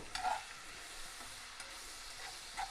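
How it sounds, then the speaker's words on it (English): Onions and peppers sauteing in grease give a soft, steady sizzle with occasional stirring scrapes, faint and continuous. "we're going to let them saute around in that grease just a minute."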